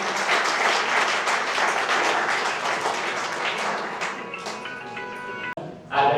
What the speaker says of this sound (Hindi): आप भी तालियों से स्वागत करें